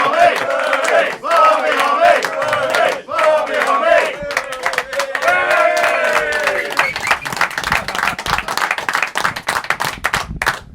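A capacity studio crowd at a football talk show welcomes a guest with loud, rhythmic chanting and clapping. The chant fades into steady applause and cheering.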